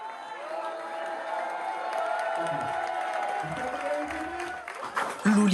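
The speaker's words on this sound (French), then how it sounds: "Une intronisation sous les acclamations de ses supporters." Supporters cheer and applaud at a mayor's inauguration in Terre-de-Haut, a continuous outdoor crowd roar with scattered whoops, heard somewhat distantly with some voices.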